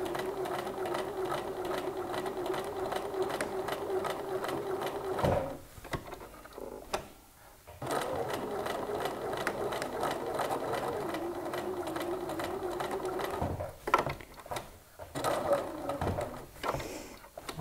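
Sewing machine stitching the front pockets of a pair of jeans, running in long fast continuous bursts of steady needle clatter with a few brief pauses, close and with no talking.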